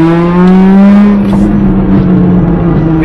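A modified Mitsubishi Galant engine drones close by in first gear, its pitch climbing steadily as it accelerates, loud and continuous throughout.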